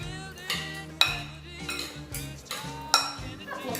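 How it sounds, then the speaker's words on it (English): A utensil scrapes and clinks against a bowl as mango salsa is stirred together, giving irregular metallic taps and ringing knocks roughly every half second, close and fairly quiet. "we're gonna mix this around together. Make a little noise, but hey, it means that it's working."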